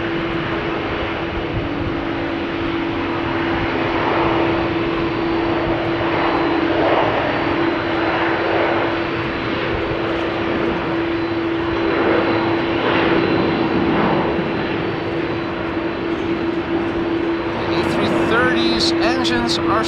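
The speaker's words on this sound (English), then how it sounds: "Engines are still overpowering everything that you're hearing." CRJ regional jet engines spooling and roaring during takeoff at Amsterdam Schiphol Airport on a rainy, wet day, a loud sustained drone with a steady tonal whine, heard continuously alongside someone talking.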